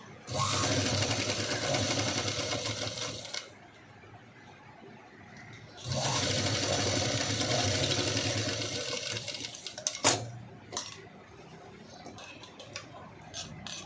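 A sewing machine stitches together the princess-cut front pieces of a V-neck blouse, running in two steady bursts separated by a pause, followed by a sharp click and a few light handling taps.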